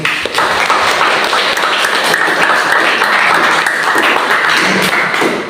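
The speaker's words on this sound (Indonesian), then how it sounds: "tepuk tangan sekali lagi" Applause from a class or small audience, steady dense clapping that holds at an even level for several seconds with no talking over it.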